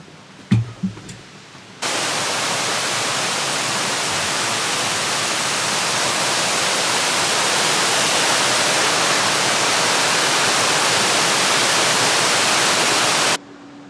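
Waterfall at a hiking spot, a loud steady broadband roar of rushing water that starts abruptly after a couple of seconds of faint handling noise and holds unchanged close to the microphone before cutting off.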